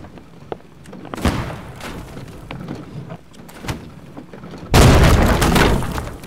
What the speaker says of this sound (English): Come on, cannon.